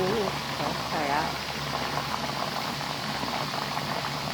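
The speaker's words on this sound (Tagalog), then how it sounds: "Pritong whole chicken." Whole chicken deep-frying in oil on its second fry, a dense steady bubbling sizzle, close and even, with a voice speaking over it.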